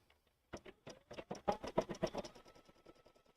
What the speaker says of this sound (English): stitch the placement lines for the cork applique